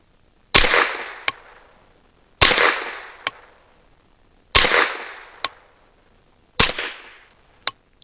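Four rifle shots from a MBGL Goat-15 firing Federal Classic 38 grain rimfire rounds, each a sharp loud crack trailing into a short ringing decay, paired with a fainter tick about a second later, evenly spaced with no talk.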